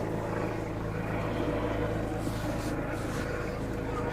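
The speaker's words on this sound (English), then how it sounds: "Helicopter's still going up" A helicopter flies overhead near a car park at night, a steady low rotor drone that hums continuously at a distance, fairly faint and unbroken throughout.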